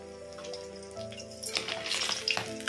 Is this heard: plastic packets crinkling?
no